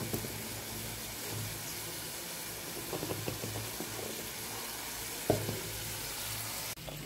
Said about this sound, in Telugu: కరివేపాకు వేసినాం కాబట్టి కరివేపాకు నూనెలో ఫ్రై అయింది.